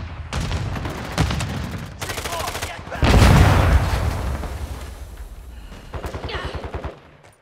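Rapid automatic gunfire in Call of Duty: Modern Warfare II, several loud bursts of rattling shots separated by short gaps, with a heavier blast partway through.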